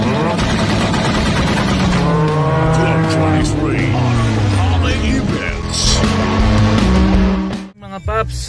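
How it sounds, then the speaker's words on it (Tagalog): Cars move through heavy road traffic in the Philippines, with engines droning and one pulling past with a rising and falling whine, loud and close, while someone talks over them. "Mga paps, sobrang traffic oh."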